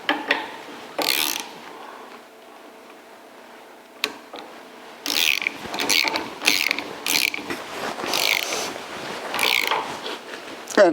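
Ratchet tightening the nuts on a spring shackle of a 1982 Jeep CJ7 during an Old Man Emu spring install, with bursts of rapid close clicking separated by pauses and a few sharp metallic knocks.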